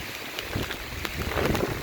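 Steady monsoon rain pours down with gusting wind and thunder rumbling, a dense hiss of falling water close by with occasional louder spatters.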